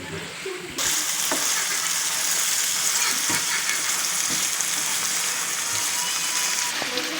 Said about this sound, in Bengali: এই দেখেন কি সুন্দরভাবে মশলাটা আমরা ভাজছি, দেখতেই পাচ্ছেন কি সুন্দরভাবে ফুটছে এবং তেল ছড়াচ্ছে